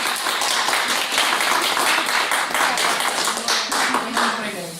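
An audience at a Rolfing school training talk applauds with dense, steady clapping that lasts several seconds, and faint voices sound beneath it.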